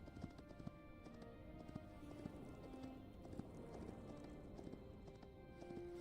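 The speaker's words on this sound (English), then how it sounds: "Should probably use the horse since I have it here for that reason." Horse hooves clip-clop at a steady trotting rhythm in the Hytale video game, repeated close hoofbeats over a low ambient bed, fairly quiet overall.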